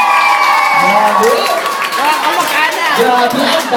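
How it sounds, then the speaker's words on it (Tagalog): Guests at a child's first birthday party clap and cheer together in a loud, continuous burst, with shouts and voices mixed into the crowd noise throughout. "Grabe, ang dami pong malakpak."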